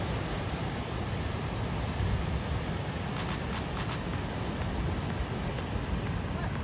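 Canyon Creek in the Tahoe National Forest rages in full flood, a loud, constant broadband roar of rushing water that never lets up, with faint ticking sounds partway through.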